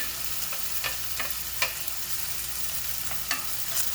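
Onion goes into a hot pan and fries, a steady close sizzle broken by several brief scraping stir strokes spaced unevenly across the few seconds, with no voices.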